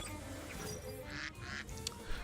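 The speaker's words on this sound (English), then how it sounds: "Quack, quack." Duck quacking in the Temtem video game, a few short nasal quacks over continuous game music and background sound, fairly quiet.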